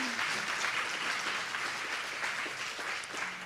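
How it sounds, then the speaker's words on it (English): Steady applause from an audience at a Raising the Bar talk in Little Bang Brewery, Adelaide, honouring speaker James Muecke; dense even clapping fills the room throughout, with faint voices mixed underneath. "another big round of applause,"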